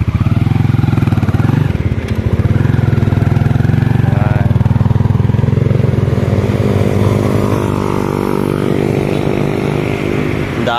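A motorcycle engine idles and revs close by amid busy street traffic in Tagum City, with a bus nearby; the loud engine drone runs continuously, shifting in pitch, while a voice talks faintly beneath it.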